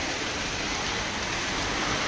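Steady rain falls continuously, a dense even hiss of drops on surfaces, close and unbroken throughout with no voices.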